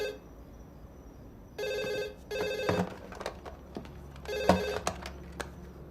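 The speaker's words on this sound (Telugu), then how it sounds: "ఫోన్ మోతుంది ఫోని" A telephone rings in repeated electronic bursts, three clear rings spaced across the moment, moderately loud over quiet room background with no talk.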